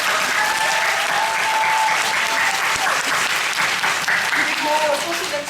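Loud, continuous applause from a musical theatre audience at a closing-performance curtain call, thick crowd clapping sustained throughout with faint voices and cheers mixed in.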